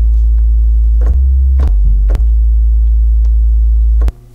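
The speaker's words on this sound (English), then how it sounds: "and it's just a sine wave." A synthesized sub-bass sine wave from the Serum synth drones as a loud, steady low tone, broken by a few short pulses, then cuts off abruptly near the end.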